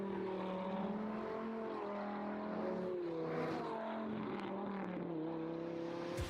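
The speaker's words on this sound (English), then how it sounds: "this Honda S2000 V10 swap by Autotopia LA" A Honda S2000 with a Viper V10 engine swap by Autotopia LA is driven hard, its loud, rasping engine note rising and falling through repeated revs and gear changes, with no voices.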